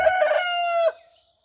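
A chicken in a coop gives a single loud, close crow-like call lasting just under a second, then fades out into silence.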